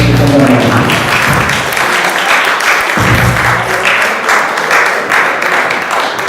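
A dense, loud, sustained round of audience applause for a speaker at a philosophy gathering, steady clapping from a large crowd with a few voices early on.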